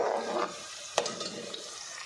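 Onions and whole spices frying in a pan for a mixed vegetable curry, a soft steady sizzle with a brief clink of a spoon stirring partway through.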